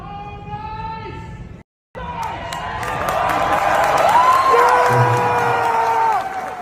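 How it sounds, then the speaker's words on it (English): Arena fans yell, whoop and clap in a big crowd roar that swells after a brief gap and holds loud for several seconds, with individual shouts ringing out above the mass of cheering. "One fan yelled, "Go home ice," while another yelled, "F ice." Applause would ring out."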